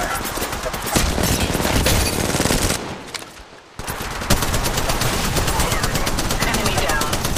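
Rapid gunfire in the Apex Legends Mobile video game, a loud sustained rattle of shots that cuts out briefly midway and then resumes, with in-game voice callouts over it.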